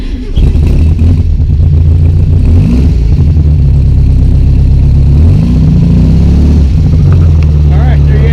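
An old air-cooled VW Beetle engine, running after an ignition switch replacement, roars loud and close, revving up and settling in rough, throaty surges throughout.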